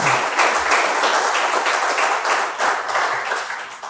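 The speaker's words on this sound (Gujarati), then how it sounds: "એમનું આપણે જોરદાર તાળીઓથી સ્વાગત કરીએ" An audience gives loud, dense applause to welcome a speaker, a retired chief justice of Orissa, at a lecture gathering, with sustained clapping filling the whole four seconds.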